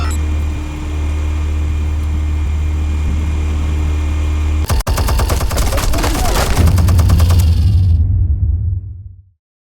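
Rapid bursts of automatic gunfire and a sharp blast from the Batman Telltale video game, kicking in suddenly after a steady low hum and rattling densely for several seconds before cutting off abruptly.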